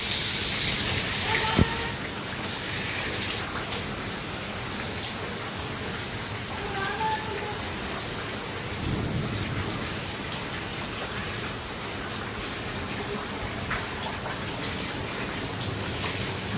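Heavy rain pours steadily during a hailstorm in Thakurgaon, Bangladesh, a dense continuous hiss close by with a sharp knock near the start and faint voices briefly under it.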